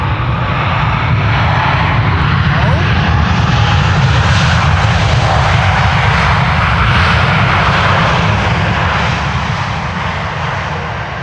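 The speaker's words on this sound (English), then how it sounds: "They're using their reverse thrust." A Transavia Airbus A321neo landing at Amsterdam Schiphol, its reverse thrust a loud, sustained, broad roar that swells and holds close by, with no voices.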